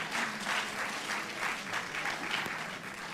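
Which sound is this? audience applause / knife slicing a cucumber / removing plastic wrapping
audience applause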